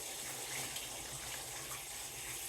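Water gushes steadily into an aquarium, landing on a paper bag laid over sand, a faint, continuous splashing pour with no talking.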